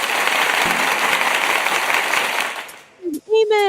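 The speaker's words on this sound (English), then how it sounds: "Does it deserve an intense applause?" Dense, loud applause from an audience fills most of the moment, then fades out abruptly near the end as a single voice begins speaking.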